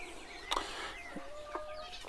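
Hens in a small backyard flock cluck and call in short, close bursts, with a couple of sharp squawks standing out over quiet ambient noise and no talking.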